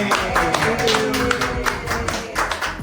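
Brief scattered clapping for a guest on an Indonesian community podcast, a few people tapping hands close by, light and uneven over a couple of seconds.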